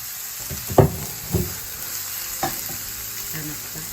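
Pulled jackfruit seasoned with garlic powder, onion powder, black pepper and universal seasoning sizzles steadily in a pan, with a few thumping stirs and scrapes up close and no talking.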